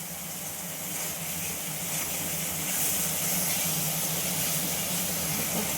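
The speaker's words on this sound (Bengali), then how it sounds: "ভালো করে এবার এটা আমি কষিয়ে নিচ্ছি মশলাটা" Spice masala frying in oil in a pan during Bengali home cooking, a steady close hiss and sizzle that holds evenly throughout with no talk.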